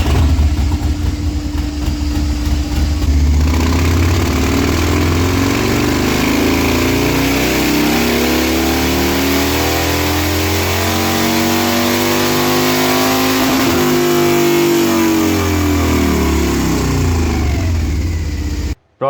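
Harley-Davidson Fat Bob with a swapped cam revving hard on a dyno, a loud, deep V-twin roar climbing steadily through the gears in one long pull before cutting off abruptly, very close.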